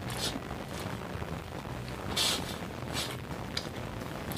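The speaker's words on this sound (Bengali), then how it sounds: "ফাঁকা আবার ঝরঝর করে বৃষ্টি পড়া আরম্ভ হয়ে যাচ্ছে" Heavy rain falls steadily, a dense broadband hiss with scattered louder drop bursts, heard from indoors with no one talking.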